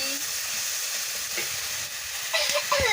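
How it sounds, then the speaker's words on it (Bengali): Mustard paste, turmeric and green chilli being fried and stirred in a pan, a steady close sizzle with a brief spatula scrape toward the end. "দিয়ে ভালো করে মশলাটাকে কষিয়ে নিচ্ছি"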